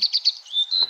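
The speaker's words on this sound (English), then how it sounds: "I can hear the bird singing." A small bird chirps and sings in quick, high, repeated tweets, three short bursts followed by a longer sustained trill, clear and close with no talking.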